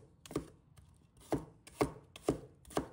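A knife chops shallots into small pieces on a board, five crisp close chops in an uneven rhythm, with no one speaking.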